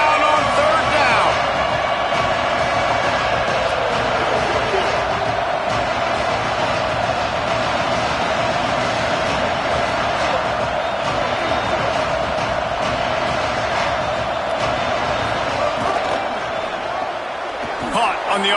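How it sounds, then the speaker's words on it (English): A stadium crowd at a Florida Gators football game roars loudly and without a break during a third-down play, with a commentator talking over the din. "This crowd unhinged, trying to make sure the Gators don't back down on 3rd down."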